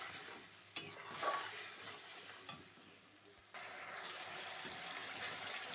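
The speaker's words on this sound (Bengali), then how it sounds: "দিয়ে একটু কষাতে থাকবে" Spice paste with turmeric and salt sautéing in oil for a yogurt and pointed-gourd curry, giving a soft, continuous sizzle with a few spoon scrapes and one sharper clatter early on, fairly quiet throughout.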